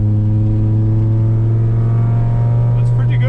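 A car fitted with a BorgWarner S257sxe turbo gives a loud, continuous engine drone on the road, holding a steady pitch with a slight lift near the end.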